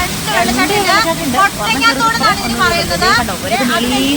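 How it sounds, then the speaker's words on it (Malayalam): A small waterfall next to a house gives a constant hiss of falling water beneath a person talking steadily over it from close by. "ഇതാണ് നമ്മുടെ സ്വന്തം വെള്ളച്ചാട്ടം"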